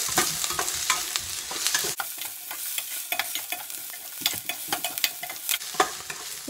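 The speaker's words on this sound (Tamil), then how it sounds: "கொஞ்சம் வெங்காயம் நல்லா வேகட்டுங்க" Onions and curry leaves stirring and sizzling in hot oil in a pan for okra tamarind curry, with steady frying crackle and repeated scrapes of a spoon, close up and no talking.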